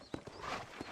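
A few hoof clops from a horse in Red Dead Redemption, two or three soft, close strikes within a second, quiet and alone.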